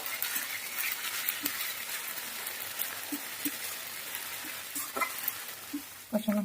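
Chopped onion sautés in a pan with ginger and green chili paste for a Bengali rohu fish curry, a soft steady sizzle broken by occasional scraping and stirring knocks, fairly quiet and close.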